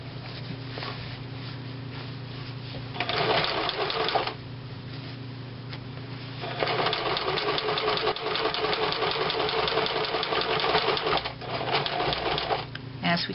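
A sewing machine stitching the top of a striped cushion cover to its boxing strip along piping, running in close, steady rattling bursts that stop and restart, with someone speaking throughout.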